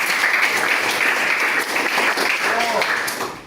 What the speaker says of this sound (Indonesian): Tepuk tangan untuk Mas Okta.